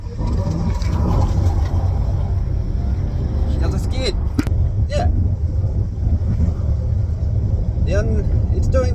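A loud, constant drone from a rebuilt budget V6 engine with an L67 top swap fills the clip, with a few bird chirps and some background voices over the rumble.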